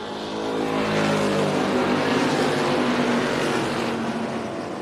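NASCAR Weekly Series stock cars race at Tucson Speedway, a loud, dense roar of several engines running together, steady throughout with a slight shift in pitch as the pack passes.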